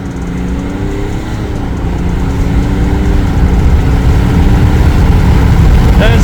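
A 2022 Chevy Silverado RST with the LM2 engine launches from a stop, its engine roaring loud and close and building steadily in pitch as the truck accelerates.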